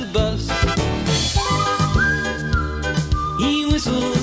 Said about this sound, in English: He whistles as he goes past houses all in rows and sleepy bungalows.